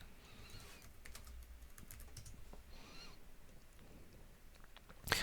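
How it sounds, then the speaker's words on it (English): Computer keyboard typing, soft and fairly distant, as a run of quick, irregular key taps over a low room hum, ending with a louder clack. "Let me just type that out for us."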